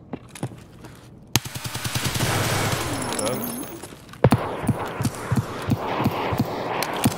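Escape From Tarkov gunfire: a sharp close shot, then a sustained rumble and a fast rhythmic string of loud reports, with players talking over it.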